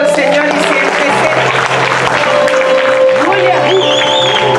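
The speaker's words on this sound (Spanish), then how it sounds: "Denle otro aplauso al Señor y siéntese." A church congregation claps during a worship service, a dense patter of applause mixed with a preacher's raised voice and some organ-like sustained tones underneath.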